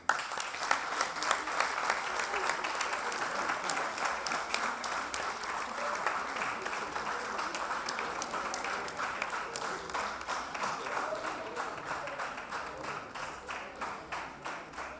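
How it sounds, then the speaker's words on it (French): Comedy club audience applauding in a long, sustained burst of many hands, dense and even, gradually thinning slightly toward the end. "c'est 30 secondes d'applaudissements. Vous pouvez commencer."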